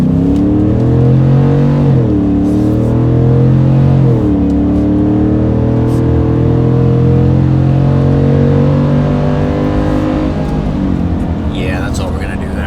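A Ford F-150 with the 5.0L V8 and an MBRP 3-inch single side exit cat-back exhaust roars at wide open throttle, loud and close, with strong rising engine harmonics shifting through gears over about twelve seconds.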